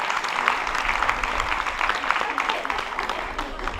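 An audience at an evening comedy show during the San Antonio festivities in Telde, 2024, claps steadily for several seconds, moderately loud and crowd-wide, with some voices mixed in.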